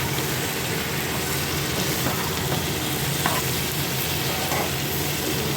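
Spice masala sautéing in released oil for malai chicken crackles in a dense, continuous sizzle close by, with faint scrapes of stirring now and then.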